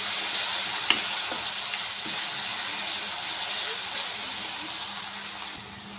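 Food frying in a pan with cumin powder is stirred and mixed: a continuous, even sizzling hiss is broken by a few light stirring taps near the start.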